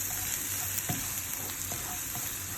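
Garlic sizzles steadily in hot oil in a pan, a dense continuous frying hiss with a few soft stirring knocks, close and fairly loud.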